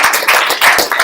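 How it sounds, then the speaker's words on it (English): Classroom audience applauding, a brief burst of several hands clapping in quick irregular rhythm, close and fairly loud, with no talk. "We have a big round of applause for Sarah."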